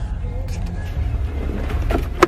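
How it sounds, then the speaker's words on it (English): The power moonroof on a 2015 GMC Yukon XL Denali opens with a soft, steady motor whir over a low cabin hum, ending in a short click after about two seconds. "Moonroof."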